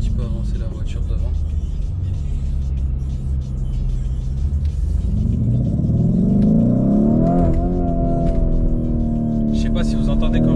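A Lamborghini Urus SUV engine roars close up, revving and climbing steadily in pitch as it accelerates, loud and continuous with a deep rumble underneath.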